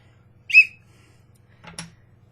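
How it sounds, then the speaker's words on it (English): A small whistle on a football player figure toy gives one short, shrill toot, followed a moment later by a fainter second sound, against a low steady hum. "Now, has a real whistle."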